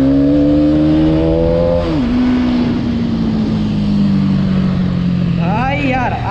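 A 2024 Hero Karizma XMR 210cc motorcycle accelerates in first gear, its loud, close engine holding a steady droning whine that dips briefly and then shifts again near the end.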